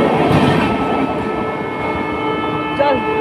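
The Saraighat Express, a 24-coach passenger express train, rumbles steadily along the tracks with a continuous loud roar and rhythmic clatter, close by, with a brief higher squeal near the end.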